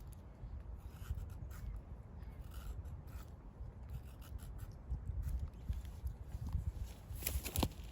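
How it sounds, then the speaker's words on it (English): A knife carves small curly wood shavings from a stick for lighting a fire with a ferro rod, making faint, close, steady rasping and scraping strokes that grow a little louder near the end. "when you're making these shavings, you want them nice and small, kind of curly"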